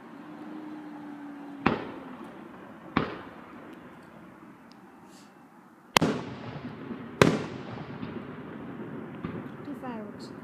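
Fireworks burst during a Fourth of July display, four sharp booming reports at irregular intervals, each trailing off into crackle and echo, with a steady crowd murmur and distant voices underneath.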